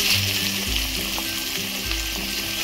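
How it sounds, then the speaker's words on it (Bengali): Mixed vegetables fry in oil in an open pan with no lid, a close, continuous crackling sizzle over a low steady hum, without any talk. "সবগুলো সবজি দেওয়া হয়ে গেছে, এখন একটু ভেজে নেব।"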